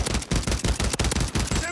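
Rapid automatic gunfire in Warzone rattles in a fast, even burst of close, loud shots lasting under two seconds, with a brief gap near the middle and game ambience underneath.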